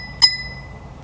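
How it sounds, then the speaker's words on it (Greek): A DYU D3F electric bike's handlebar bell gives a single bright ding at close range. It fades quickly into near silence. "και αυτό το κουδούνι."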